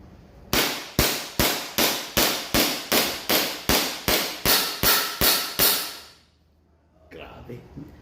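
An STI Executive 2011 pistol fired rapidly, about fourteen sharp, loud, evenly spaced shots close by with ringing decay, followed by quiet and a faint voice afterward.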